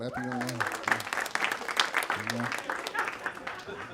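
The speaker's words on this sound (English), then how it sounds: "Clap if you're in love." A comedy-show audience claps steadily throughout, a dense crackle of many hands that runs under a comedian's voice, which is loudest at the start and again around the middle.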